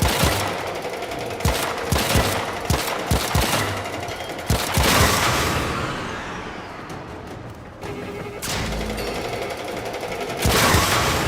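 Missile barrage in the video game Warframe, with rapid, loud bursts of firing and crackling impacts that thin out midway, then surge back into a dense roar near the end.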